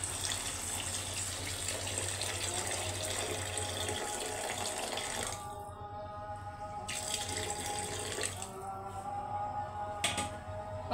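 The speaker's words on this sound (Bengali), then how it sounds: "এখন আমি দিয়ে দিচ্ছি ঝোলের পানি।" Water pours steadily into a pan of hilsa fish and pointed gourd curry, a continuous broadband splash that shifts to a lighter, bubbling trickle partway through, fairly close with no talk.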